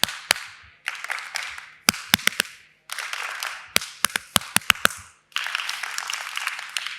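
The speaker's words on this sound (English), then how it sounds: "I'm going to clap a rhythm. All you need to do is listen and then copy." A room of people clap back rhythms in bursts, each burst of group clapping alternating with sharp, distinct single claps spaced in short patterns, with short gaps of near silence between them.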